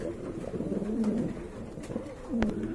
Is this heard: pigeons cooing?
yes